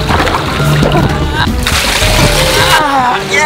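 Someone falling into water from a booby trap, a loud splash followed by sloshing and churning water that stays busy throughout, with a brief voice nearby.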